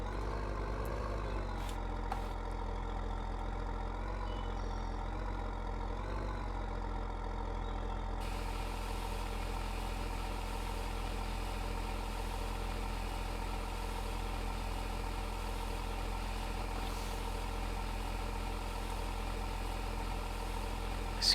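A heavy tractor engine idles steadily in a video game with a low, constant rumble and no change in pitch, continuing unbroken the whole time.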